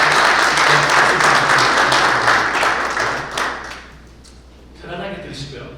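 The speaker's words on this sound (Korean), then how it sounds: "다시 한번 하나님께 영광과 박수를 올리고 시작하겠습니다." Congregation at a national pastors and elders prayer meeting breaking into loud applause, a thick burst of clapping that fades after a few seconds, then a smaller flurry near the end.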